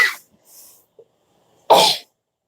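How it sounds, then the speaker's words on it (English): A single sharp, close burst of a sneeze from a person, preceded by a quick inhale and a faint breathy sound, then quiet. "I'm going to sneeze."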